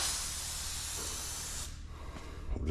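An aerosol sprays an even coat onto a spring in a loud, continuous close hiss for about a second and a half, then cuts off, followed by faint handling noises.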